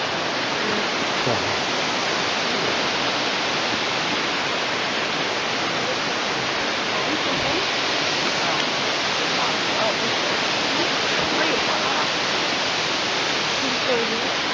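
Hanakapiai Falls on Kauai roars as a steady, loud, broadband wash of falling water that stays constant throughout with no pauses.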